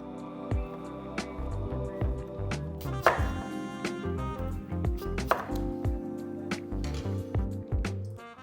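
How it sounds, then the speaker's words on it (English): Repeated crinkle-cut knife strokes slicing through firm potatoes on a board, steady chopping rhythm up close, with soft music playing underneath. "using this fancy little crinkle cut knife, start slicing them fairly thick"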